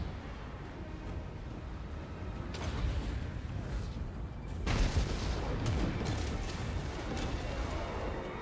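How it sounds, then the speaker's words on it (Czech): Grapeshot artillery fires during a Vampire Coast battle in Total War: Warhammer 2, producing rapid, overlapping booms and crackling volleys that swell and fade over a dense background of battle noise. "Je vtipný, jak ta kartáčová střela střílí o dost rychlejc než"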